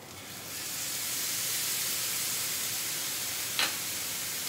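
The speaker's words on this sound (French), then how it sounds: "On ajoute ça au poêlon, vous allez voir, ça va faire de la vapeur." Baking soda water poured into a hot pan of onions makes a sudden broad steam hiss that swells and holds steadily, with a brief clink near the end and no talk.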